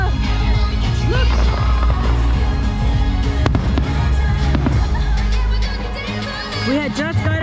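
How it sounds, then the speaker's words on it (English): Fireworks boom and crackle repeatedly at Disneyland, with sharp bangs over a dense rumble, while excited voices talk and exclaim nearby. "fireworks!"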